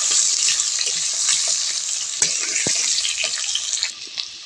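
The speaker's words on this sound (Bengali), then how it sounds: "আলুটা আমি ভালো করে ভেজে নেব।" Thick-cut potatoes frying in oil previously used for fish, a dense continuous sizzle up close with occasional spatter pops and light stirring clicks.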